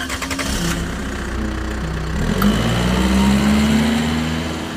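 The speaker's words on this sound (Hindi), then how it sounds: "तभी ट्रक की आवाज सुनाई देती है" A truck engine rumbles steadily and grows louder as it draws near, its pitch slowly rising, used as a horror-story sound effect with no voices.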